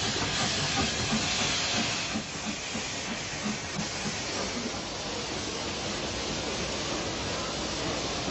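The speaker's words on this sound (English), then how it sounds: "an L12 440 424 arrives with the Portsmouth train" A steam locomotive, an L12 class 4-4-0, arriving with the Portsmouth train: a continuous loud hiss of steam with rumbling rail noise underneath, steady throughout with a slight dip partway.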